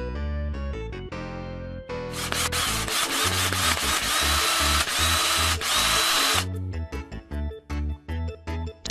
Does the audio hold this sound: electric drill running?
yes